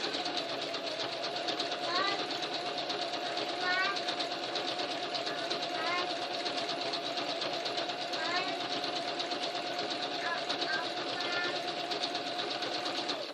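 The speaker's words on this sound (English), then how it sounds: "we're going to zigzag it around the middle one first" A sewing machine zigzag stitching around the center of an appliqué flower on a quilt-as-you-go block whirs steadily and close throughout, with a fast even mechanical chatter and no pause.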